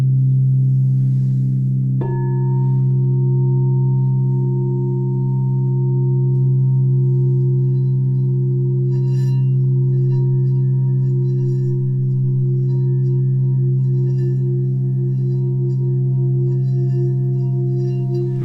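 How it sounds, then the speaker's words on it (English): Crystal singing bowls ringing in a sound bath, sustained steady low tones with two slow beating pulses, a higher bowl entering after about two seconds and faint shimmering overtones, alone and continuous. "you will hear in the sound bath experience, you will hear two different beat frequencies"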